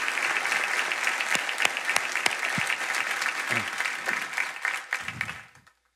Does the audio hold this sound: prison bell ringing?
no